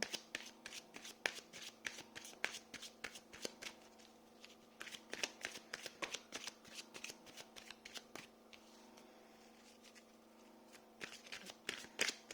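Tarot cards shuffled by hand in a quiet room, a rapid series of crisp riffling flutters and slaps in bursts, close and fairly soft, with no talk.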